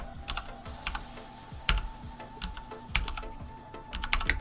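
Typing a search into Google on a computer keyboard: a steady run of crisp, close key clicks with a few heavier strokes, no talking.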